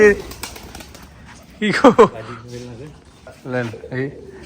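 Pigeons at a pigeon farm giving a few soft coos close by, with someone talking over and between the calls.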